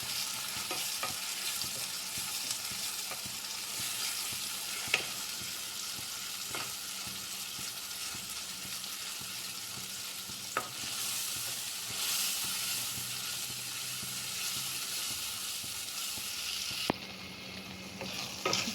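Puréed ground mixture with ginger-garlic paste sizzling and frying in hot oil, a steady close crackling hiss with occasional stirring clinks and scrapes throughout.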